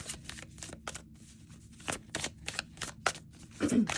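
An oracle card deck being shuffled close by, a run of quick papery riffles and soft taps that ends in a louder shuffle.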